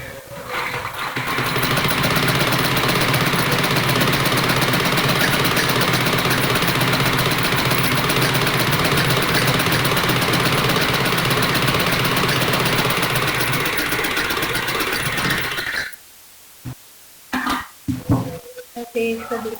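A home sewing machine stitches a small child's kurta pajama with a steady mechanical whir for about fifteen seconds, then stops, leaving a few scattered handling clicks and knocks.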